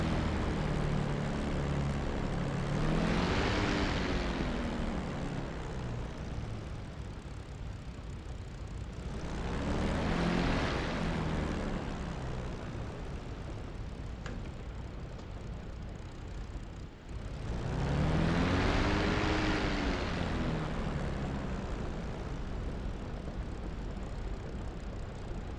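TF-51 propeller aircraft taxiing, its engine droning steadily throughout with three slow swells in loudness, as if rising in power or sweeping past nearby, with no voices.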